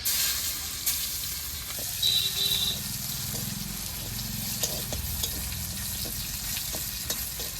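Bay leaf and garlic fry in hot oil with a steady, close sizzle, punctuated by occasional scrapes and taps of stirring.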